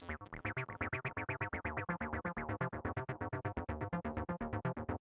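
An acid synth line runs through an Echo Boy delay: fast, buzzy repeated notes in a steady driving pulse, each smeared by echoing repeats, loud and alone.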